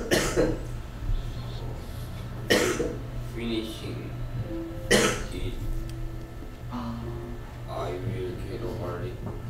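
Three sharp, loud coughs at roughly even intervals during a middle-school English grammar class, each a brief burst standing out against low steady room hum.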